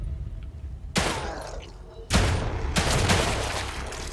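Gunfire in the survival-horror game The Evil Within 2: three sharp, loud gunshots at uneven intervals, each with a ringing tail, over a low ambient rumble.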